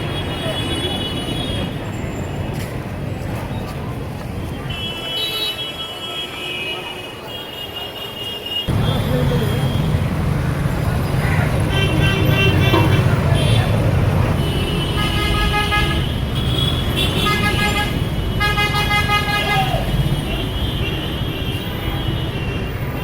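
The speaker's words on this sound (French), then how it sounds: "Là, il y a des rues à Kolkata, c'est vraiment infernal au niveau du bruit, klaxon" Busy street traffic in Kolkata roars continuously while car horns honk again and again, some long and some in quick repeated toots, loud and close throughout.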